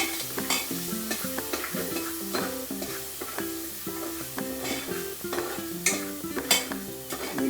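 Cluster beans with tomato and potato stirred in a frying pan, steady sizzling under repeated scraping strokes of a spoon against the pan, with a clanking rhythm throughout and no voices.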